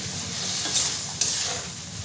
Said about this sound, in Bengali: আলু ফুলকপি ভালো করে কষানো হয়ে গেছে, এরপরে দিয়ে দেবো জল।